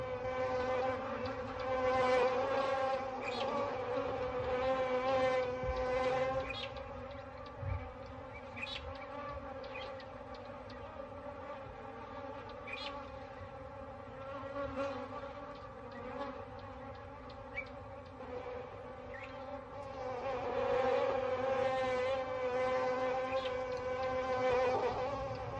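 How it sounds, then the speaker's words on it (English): A dense, droning buzz of many bees hums continuously, swelling and fading slightly, with occasional individual insects zipping close by. "When the lions move on, the bees go in search of new victims."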